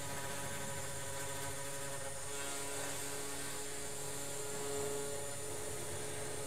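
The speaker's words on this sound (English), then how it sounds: "Now the machine will start moving." A CNC machine moves and cuts into material with a steady, faint motor whine and hum, holding an even tone across several seconds.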